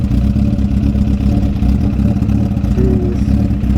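A straight-piped 750 motorcycle engine idling loud and close, a dense low rumbling throb with a rough, clattery pulse that holds steady throughout, no speech.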